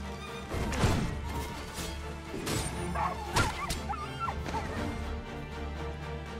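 Dogs in the fantasy video game Dragon's Dogma 2 bark and yip amid busy game sound and music, several sharp barks and whimpers over a dense, continuous background.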